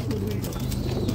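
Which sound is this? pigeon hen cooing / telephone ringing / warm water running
pigeon hen cooing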